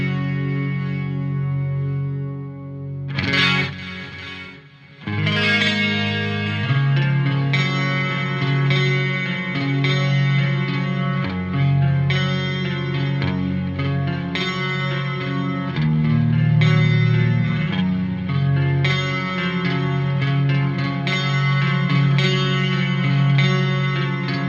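An electric guitar runs through a dual mono delay set to 398 ms left and 798 ms right, in a classic style, playing sustained, distorted chords and notes with echoing repeats, loud and alone.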